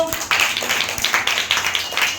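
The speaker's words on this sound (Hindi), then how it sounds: "प्रज्ञा के लिए ताली बजा दो" In a classroom maths lesson, children clap for a pupil named Pragya: a quick, uneven patter of many small hands, close and fairly loud, lasting about two seconds.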